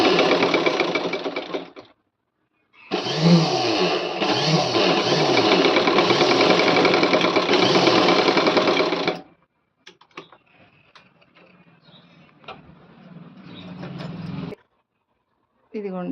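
A sewing machine stitches a pleated Kuchipudi dance dress in two long runs of steady, loud motor whirring, separated by brief pauses, then quieter scattered clicks and handling noises follow.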